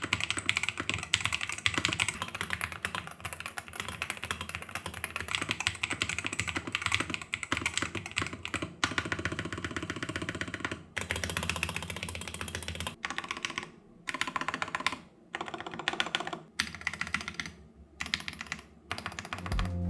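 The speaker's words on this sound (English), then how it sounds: "they went with a closed bottom Hall effect switch which produces a better sound" Rapid, steady typing on a Mad60HE mechanical keyboard with closed-bottom Hall effect switches, close and continuous, with dense clicky keystrokes that briefly break into short pauses toward the end.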